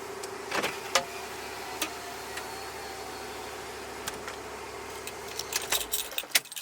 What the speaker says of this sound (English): Roll down all the windows.